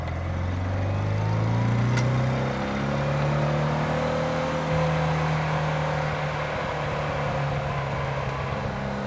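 Porsche 356 B with a 60 horsepower engine accelerating on the road, a close steady engine drone rising through gear changes over the whole stretch, with no talk.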